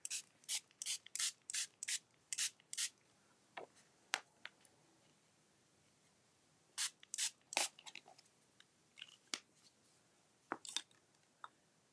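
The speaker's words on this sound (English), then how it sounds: "I'm just going to go ahead and give the paper a light spritzing" A spray bottle spritzes water onto paper in a rapid run of short, sharp bursts, then quiet handling noises and another cluster of sprays, close by.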